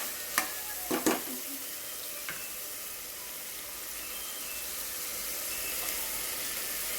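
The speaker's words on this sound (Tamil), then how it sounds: "புதினா கொத்தமல்லி அதையும் சேர்த்து வதக்கிடுவோம்." Mint and coriander sautéing in a pan for beetroot biryani, a soft steady sizzle with a few sharp stirring clatters near the start, heard alone.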